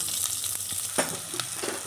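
Steady sizzling of onions and chillies sautéing in a hot pan, with occasional scrapes and clinks from stirring.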